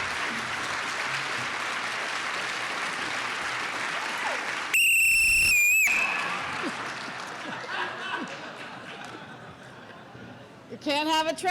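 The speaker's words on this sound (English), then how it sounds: "Can't have a traveler gathering without a whistle, so we have to do it." A loud, shrill, wavering whistle rings out for about a second over steady applause from a crowd at an exhibit opening, followed by more clapping and a second warbling whistle near the end.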